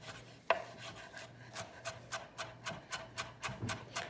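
Knife chopping a tightly folded bundle of cilantro on a wooden cutting board: a sharp first cut, then a steady run of about a dozen soft rhythmic chops, close and fairly quiet.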